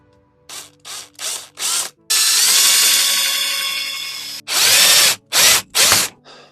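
A power drill bores a hole in a Gary Fisher mountain bike frame, with four short bursts, then a long continuous run, then three more short bursts, loud and close with no talking.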